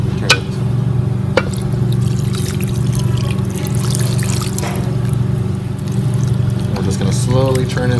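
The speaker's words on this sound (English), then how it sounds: "It's our milk, butter, garlic. We're gonna go ahead and throw that in." Hot milk, butter and garlic are poured into a pot of potatoes for mashing, a steady liquid pour and trickle under a constant low kitchen hum, with a brief voice near the end.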